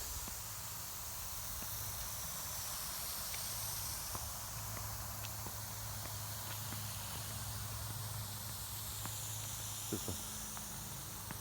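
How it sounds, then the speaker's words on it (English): Small lawn sprinkler spray heads beside a driveway give a continuous, even hiss of spraying water filling the whole stretch, steady and fairly loud, with occasional faint footsteps and ticks, no voices. "the sprinklers beside the driveway here, the little spray heads, will be coming on"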